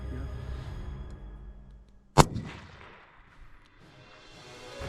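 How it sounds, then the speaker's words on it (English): A single loud, sharp rifle shot fired prone from a bipod at a kudu on a South African hunt, cracking out abruptly at close range and trailing off over quiet outdoor background. "and I took the shot"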